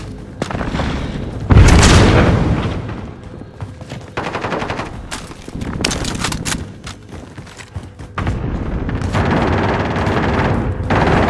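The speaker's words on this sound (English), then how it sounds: "Throwing grenade!" Grenade blasts and heavy gunfire in Call of Duty Warzone: one loud, close explosion bursts early, followed by repeated bangs and rattling shots in uneven clusters across the battlefield.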